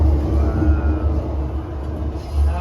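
Riyadh metro train running, heard from inside as a steady low rumble that stays loud and continuous throughout, with no voices.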